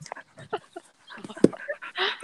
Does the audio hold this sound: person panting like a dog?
yes